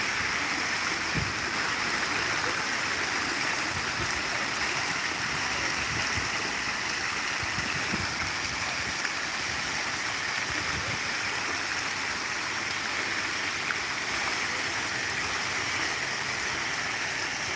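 Water pours continuously in the Crows Fountain in Melbourne, a steady rushing splash heard close by on a sunny day, with occasional faint low thumps and no voices.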